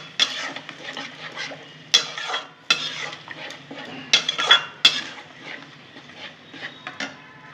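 Spice paste for a vegetarian cauliflower kaliya is stir-fried in a pan, with repeated scraping and clattering strokes of a spatula over a soft sizzle, close and rhythmic, with no talking.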